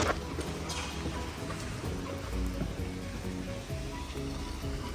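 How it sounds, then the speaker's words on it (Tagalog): Heavy rain pours down in a dense, steady hiss, close and continuous with a low rumble underneath and no talk. "Ang lakas ng ulan."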